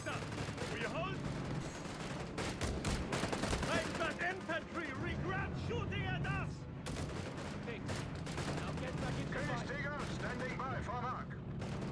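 Automatic weapons rattle in dense, rapid bursts during a Company of Heroes 3 beach battle, mixed with heavier explosions and mechanical clatter, while a commentator talks over the steady barrage.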